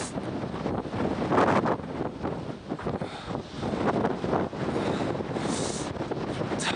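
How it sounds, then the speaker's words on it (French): Strong, gusty wind buffets the microphone throughout a bicycle trip across a remote region, a loud continuous roar that swells and dips with no voices heard. "Ah, ce vent!"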